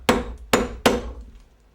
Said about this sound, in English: Okay, then I'll hammer this. Use this piece of iron rod